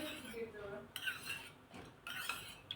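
Spoon stirring cornflour paste into heated milk in a pot for saffron rabri, soft scraping and clinking strokes in a few quick repeated passes, close and quiet, with no voice.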